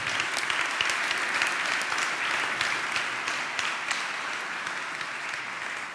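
A conference audience in Italy applauds in memory of a former mayor of Gorizia, a full, even round of clapping from many hands that holds steady and fades slightly toward the end.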